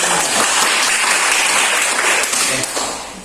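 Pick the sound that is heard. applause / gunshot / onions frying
applause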